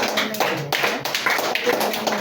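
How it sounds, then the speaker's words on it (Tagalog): A church congregation claps together, a dense, brisk patter of many hands close and loud, with voices mixed in. "Palakpak muli sa Diyos."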